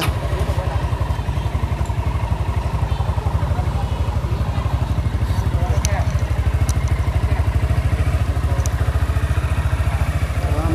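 A Honda motorcycle engine idles steadily with a fast, even putter and a light mechanical clatter, close and loud, running continuously without talk.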